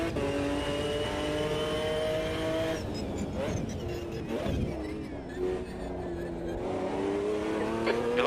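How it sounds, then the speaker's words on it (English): McLaren F1 GTR race car in a racing game at Bathurst, engine droning steadily with rising and falling pitch as the tires squeal under a locked left-front brake, a cluster of harsh squeals and scrubbing in the middle, close and continuous. "You're locking your left front going into the chase."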